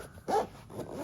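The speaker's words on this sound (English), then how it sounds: "So let's unzip it now." The zipper on a thick black GoPro Hero 11 case is pulled open in a quick, close rasping stroke, followed by a softer second drag.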